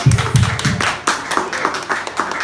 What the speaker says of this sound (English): Give a round of applause to Mandy.